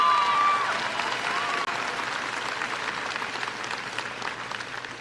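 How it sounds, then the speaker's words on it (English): Audience at a 2022 high school graduation ceremony in Gardiner, Maine applauds the class valedictorian, a dense, sustained clapping from a large crowd in a hall that stays steady before tapering slightly. "you give him a little round of applause there"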